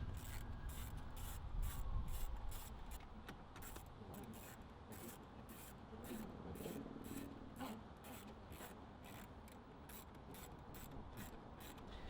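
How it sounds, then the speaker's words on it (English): Bolts are reinstalled with a ratchet during a CarPlay and Android Auto kit installation in a 2018–2020 Lexus UX, giving a faint, quick run of regular ratcheting clicks that continues through the whole stretch. "We'll go ahead and reinstall the bolts."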